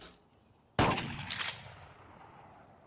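One sharp, loud shotgun blast sounds in a VR clay shooting game, with a short burst of crackle just after, then fades into a quiet tail with no voices.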